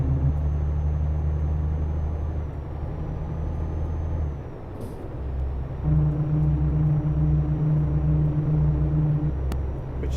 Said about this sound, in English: The most annoying sound of the wheels hitting the sidelines